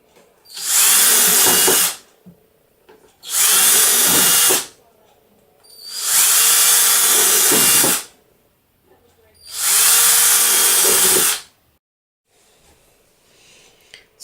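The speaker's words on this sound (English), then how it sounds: "First thing I want to do is drill some holes, some air ventilation holes on the sides" A power drill bores ventilation holes through the side of a plastic isopod bin in four loud bursts of about two seconds each, with short quiet pauses and faint handling noise between them.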